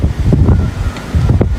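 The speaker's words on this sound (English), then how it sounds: "Just gonna hit a big gust" Strong hurricane wind gusts during Hurricane Milton roar loudly across the microphone, surging in heavy buffeting bursts with a short lull between them.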